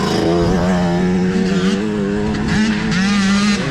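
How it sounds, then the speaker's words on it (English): A dirt bike engine revs hard and continuously, its pitch wavering up and down as the clutch slips, loud and close throughout. "you can hear him abusing the clutch a little bit"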